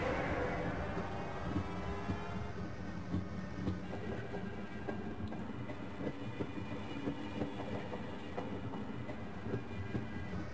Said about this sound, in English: Okay, let's take the train then.